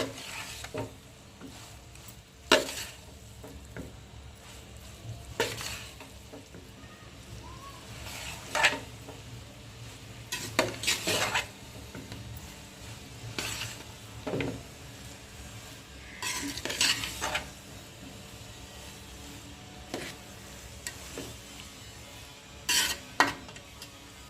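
Schezwan noodles are stirred in a large cooking pot, with repeated scraping and clanking of a utensil against metal in irregular bursts over a low background sizzle.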